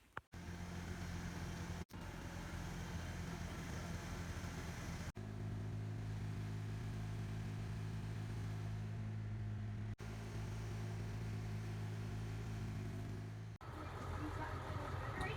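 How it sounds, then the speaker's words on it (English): A farm tractor drives about half a mile from the barn to a lodge, its engine a steady close drone broken by a few brief cuts, with no talking. "we're gonna go over there and get it with the tractor"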